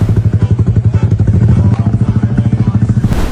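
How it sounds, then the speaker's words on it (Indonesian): A loud aftermarket knalpot brong motorcycle exhaust idles close by, a deep rapid lumpy burble pulsing evenly throughout, with no one talking. "Knalpot yang selama ini ia banggakan di jalan, kini harus ia dengarkan sendiri dari jarak dekat."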